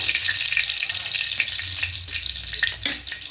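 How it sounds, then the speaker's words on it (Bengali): Fish frying in oil in a pan on a gas stove, a close, steady sizzle and crackle that continues throughout with a few louder pops and spatters, no voices. "দেখুন মাছগুলো একদম ভাজা হয়ে গেছে"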